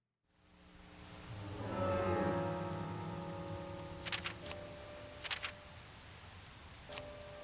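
Steady rain falls across a scene in the video game Deadly Premonition, a soft continuous hiss with a low musical drone beneath and a few brief brighter sparkles; no one speaks.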